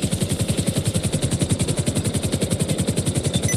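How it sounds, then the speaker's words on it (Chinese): A police helicopter in GTA Online, heard as a steady, fast rotor chop with a continuous engine whine above it, loud and unbroken throughout. "降落之后也可以看看这一台直升机，警用直升机。"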